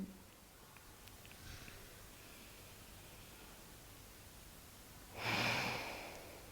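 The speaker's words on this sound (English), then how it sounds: "Keep breathing." Quiet room tone during yoga practice, broken near the end by a single soft, airy exhale.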